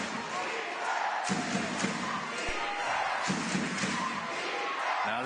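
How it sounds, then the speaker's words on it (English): A crowd roars and cheers loudly and without a break at a women's wheelchair basketball bronze medal game, with German fans going wild. There are scattered thumps and a commentator's voice partly mixed in. "the German crowd goes wild"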